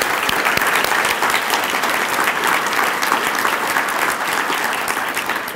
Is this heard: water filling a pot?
no